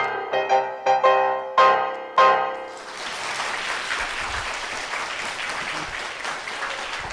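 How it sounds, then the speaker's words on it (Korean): A lecture audience breaks into applause after a few spoken phrases, and dense steady clapping from many hands fills the rest of the moment at moderate loudness. "오늘 보니까 박수가 조작되는 거네요"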